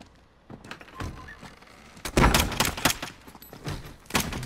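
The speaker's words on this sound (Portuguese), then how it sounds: "Olha o que a arma silenciada faz, né? Ninguém escuta nada, cara." A silenced gun fires in Call of Duty Modern Warfare, a run of muffled thumping shots clustered together, louder in a burst midway, with ambient game noise between.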